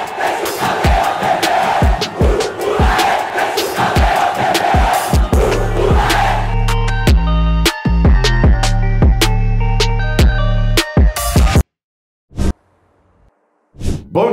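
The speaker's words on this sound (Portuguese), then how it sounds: "solta a vinheta!" A radio sports show intro jingle for Vasco coverage plays loud, opening with crowd chanting and cheering over punchy hits, then turning into a rhythmic musical sting with sharp repeated beats before a short silence and a final hit.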